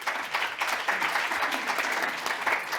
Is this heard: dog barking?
no